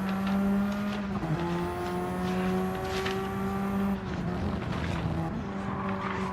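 Several race cars in a sim racing game roar steadily around the Catalunya circuit, their engine notes layered and sustained, with faint tire noise and brief shifts in pitch.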